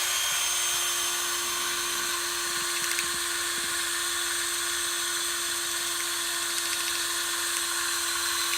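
A rotary power tool grinds out the soft plastic neck of a Hammer 7 hopper, giving a steady high whine with a constant pitched hum and light scraping, sustained without pause and with no talk.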